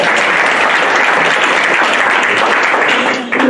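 Audience applause at a public health ethics plenary, a dense, steady burst of clapping from a large crowd, loud and close, tapering off at the very end.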